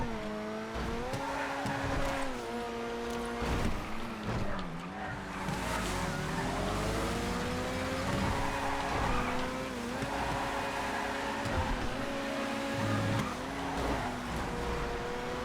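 Racing car engine in GTA FiveM, revving and shifting pitch through the corners of a race, with scattered tire skids and squeals breaking over the steady engine drone.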